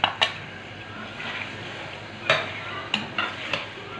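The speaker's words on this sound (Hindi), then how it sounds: "अब हम इसमें चिकन डाल के इसको फ्राई करेंगे।" Chicken pieces frying with browned onions in a pan, a steady sizzle broken by several sharp scrapes and clinks of a spoon stirring against the metal, close and clear with no talking.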